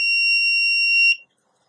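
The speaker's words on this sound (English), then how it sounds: "the buzzer comes back on again." The buzzer of a homemade laser tripwire security alarm sounds a steady, piercing electronic tone for about a second, then cuts off abruptly into silence.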